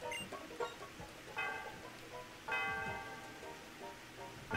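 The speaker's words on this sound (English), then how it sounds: "Let me ring the bell." A bell rings in a Pokémon Black video game, with a few bright tonal strikes that ring out among chiptune-like game sounds, clearly audible but moderate in level.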